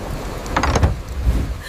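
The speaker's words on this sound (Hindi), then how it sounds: "कड़कड़ाती बिजली, गड़गड़ाते बादल और मूसलाधार बारिश।" Heavy downpour with rumbling thunder, a steady wash of rain over low rolling rumbles and a few brighter crackling bursts in the middle, no voices.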